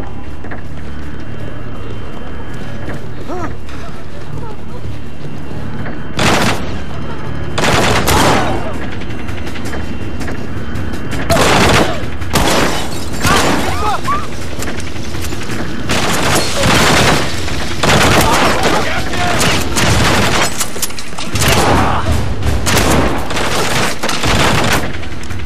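Gunfire in The Bourne Conspiracy video game, sharp loud shots and rapid bursts breaking out repeatedly over a constant engine-like rumble, with occasional voices underneath.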